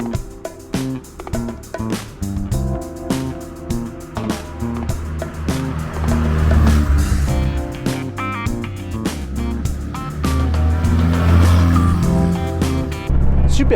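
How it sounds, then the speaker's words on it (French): A 1200 Volkswagen Beetle's air-cooled flat-four engine and raspy exhaust while driving; a steady low throbbing drone that rises and falls with the revs, close and continuous throughout. "On a le son du 4 cylindres à plat, du refroidissement à air, l'échappement qui est bien rauque comme il faut"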